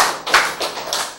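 A few scattered claps from a lecture audience, three or four separate hand claps over about a second, close and alone.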